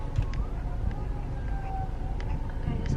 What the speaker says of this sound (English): Is that a freaking ambulance coming up in here?